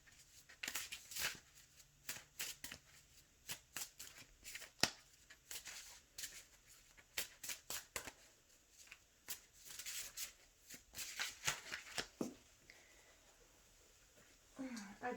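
Tarot cards are shuffled and drawn by hand: a long run of crisp, rapid riffling flutters and slaps, close and fairly quiet, with short pauses between bursts and a voice speaking now and then.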